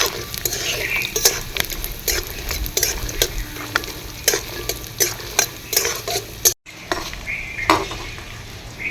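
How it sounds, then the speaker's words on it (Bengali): Peanuts and cashews fry together in a pan with a steady sizzle, broken by repeated sharp scrapes and clicks of a spoon stirring against the metal, with no one speaking. "প্রথমে বাদাম ভেজে নেব। আর কাজু একসঙ্গে ভেজে নেব।"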